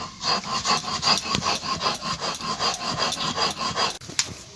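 Semolina is ground into powder with rhythmic scraping and rubbing strokes, roughly three per second, close and even, then a sharp knock near the end, with no talking.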